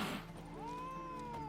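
In the video game The Witcher 3, a cat lets out a single drawn-out meow, rising then holding its tone, fairly faint over the game's quiet ambience.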